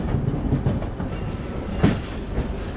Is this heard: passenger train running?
yes